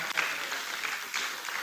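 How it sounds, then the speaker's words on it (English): A conference audience at an Igbo gathering in Nigeria breaks into applause after a lecture: a dense, steady patter of many hands clapping, moderately loud and even throughout, with no voices rising above it. "Please, another round of applause for Reverend Father John Oloma."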